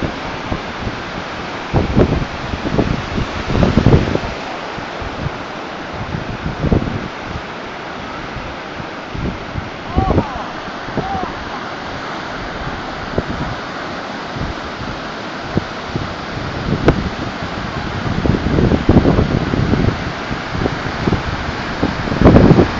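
Ocean waves rolling in and breaking at Polzeath beach in Cornwall, a steady broadband wash of surf with repeated louder crashes, mixed with gusting wind buffeting the microphone throughout.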